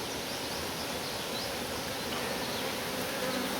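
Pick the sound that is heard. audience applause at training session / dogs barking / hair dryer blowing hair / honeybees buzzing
honeybees buzzing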